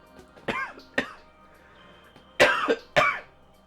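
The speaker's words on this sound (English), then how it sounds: "Oh, I hate holding back coughs." Several sharp coughs close by, two single ones followed by a pair, with quiet pauses between them.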